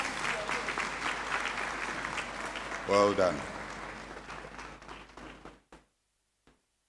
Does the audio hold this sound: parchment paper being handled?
no